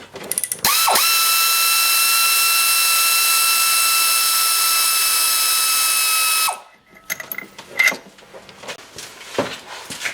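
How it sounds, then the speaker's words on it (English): A pneumatic impact wrench whines and spins steadily for about six seconds, loud and close, while working the top alternator bolt on a 1999 Pontiac Grand Prix GTP during a head gasket job, then stops, leaving clinks and shuffling. "See if I can get my impact in there."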